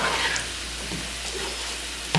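Peppers tossed into a pan of breakfast potatoes with sausage and onions, giving a soft, steady sizzle with light scraping and stirring, fairly quiet, ending in a brief louder clatter.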